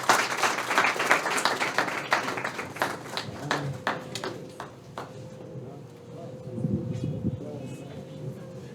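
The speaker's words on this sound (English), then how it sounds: "Could you clap for him? Put your hands together for him, please" An audience applauds the special guest, Mr. Bernard, at an English-language immigration debate show, with dense clapping that thins out after a few seconds while a voice carries on under and after it.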